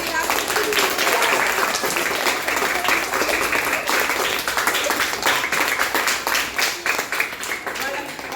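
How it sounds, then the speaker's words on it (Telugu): A gathered audience at a memorial-anniversary event bursts into sustained applause, loud and dense at first, then thinning into more scattered claps, with voices talking over it. "చాలా క్లాప్స్ కొట్టండి"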